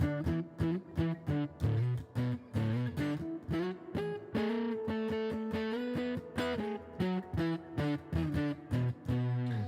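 A dark, warm electric guitar tone from a Yamaha Revstar's neck pickup with the tone rolled down, rounded lows and muted highs, played as rhythmic chords and short riffs, with sharp stops between strums.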